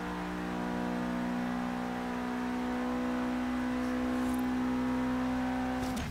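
A 2016 Lamborghini Aventador LP750-4 SV in a Forza Horizon 3 drag race, its engine holding a steady high-pitched whine and building slowly, then revving sharply upward at the very end, loud and alone with no talk.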